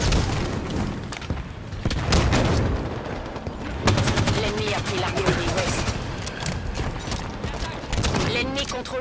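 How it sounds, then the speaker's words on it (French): Rapid gunfire crackles through a Halo 5: Guardians firefight, dense bursts of shots almost continuous and loud across the whole stretch, with voices calling out underneath. "Ça tire, ça tire, ça tire, ça tire."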